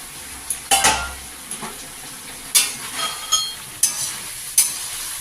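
Drumstick, potato, eggplant and pumpkin cooking in a pan with spatula stirring: several distinct metallic scrapes and clanks against the pan over a faint steady sizzle, close and fairly loud.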